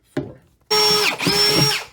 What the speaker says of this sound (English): we're gonna go ahead and drill some holes in the bottom of this bucket